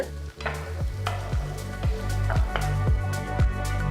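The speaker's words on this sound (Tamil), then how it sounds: "நெக்ஸ்ட் ஒரு பெரிய வெங்காயம் பொடியை நறுக்கினது சேர்க்குறேன். 2 நிமிஷத்துக்கு நல்லா வதக்குங்க." Chopped onion sizzles steadily in hot oil while a utensil scrapes and stirs the pan in regular strokes, close and clear, with no speech.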